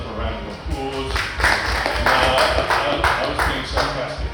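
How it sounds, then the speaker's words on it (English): Audience clapping at the Louisiana Shrimp Festival 2025 comes as a burst of moderately loud, uneven claps, mixed with a voice speaking near the start. "give yourself a round of applause"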